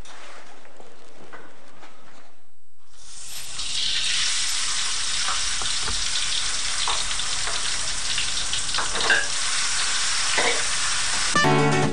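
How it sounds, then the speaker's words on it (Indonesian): Vegetables stir-fried in a pan with garlic, onion, pepper and salt, a steady loud sizzle with scraping stirs, starting after a quiet moment and continuing to the end. "semua bahan isian yang terdiri dari sayur-sayuran ditumis bersama dengan bawang putih, bawang bombay, serta sedikit lada dan garam"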